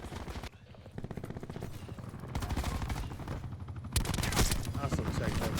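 Gunfire in the Black Ops 4 video game: rapid bursts of automatic shots crackle in quick runs, growing louder toward the end, with speech over parts of them.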